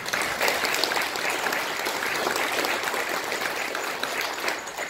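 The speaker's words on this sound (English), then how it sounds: "Will you please give a collective round of applause for each of them?" An audience at a fatherhood conference gives a sustained round of applause, dense steady clapping filling the room at moderate loudness from start to finish.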